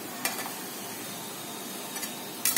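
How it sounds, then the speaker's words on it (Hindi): Boiled potatoes for dum aloo stirred in a pan, giving a steady soft scraping and sizzling texture with a few faint clinks of the spoon, close and continuous. "इसको हिलाते रहिए थोड़ा सा"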